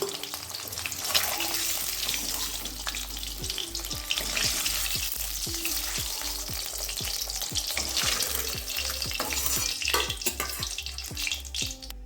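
An egg fries in oil in a pan, giving a steady close sizzle with repeated sharp taps and scrapes from stirring throughout, and no one speaks.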